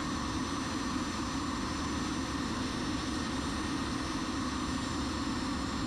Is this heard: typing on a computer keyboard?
no